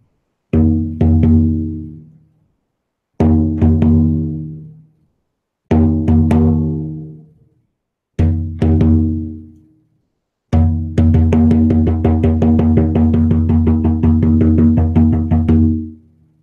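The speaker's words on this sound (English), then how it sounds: "A callback is a repeated tone on the drum" Resonant drum strikes ring out in short groups of two and three with pauses between, ending in a longer sustained roll of rapid hits, used as a callback signal.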